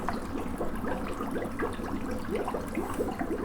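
Water bubbling into an Eheim Experience 250 canister filter while it fills, close and steady gurgling with rapid repeated bubble pops, loud and continuous, without speech.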